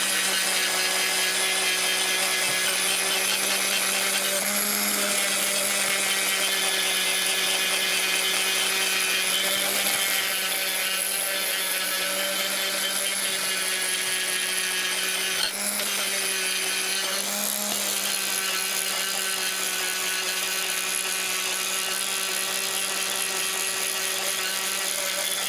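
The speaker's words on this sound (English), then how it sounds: "don't press too hard on the Dremel. If you do, it actually burns the wood or whatever product you're using" A Dremel rotary tool sands birch plywood in a continuous close high whine, with slight dips in pitch and intensity as it is pressed against the wood.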